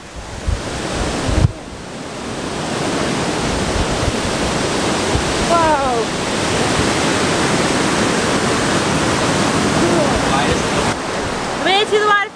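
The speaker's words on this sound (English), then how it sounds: "We made it to the waterfall!" A Wisconsin waterfall rushes in a loud, steady roar close by. A person exclaims over it, and a few faint bird chirps come through near the end.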